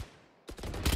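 A short burst of rapid gunfire in Valorant, a few close, sharp shots that quickly get louder within a second after near silence.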